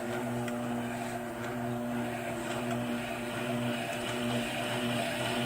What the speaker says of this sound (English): Let's turn it up. It's a 90-volt motor.